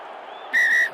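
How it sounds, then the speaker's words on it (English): A referee's whistle at a New Zealand vs Fiji rugby sevens match in Cape Town gives a short, sharp, shrill blast, loud and close over the faint stadium hum. "Another double whistle, time off on the clock."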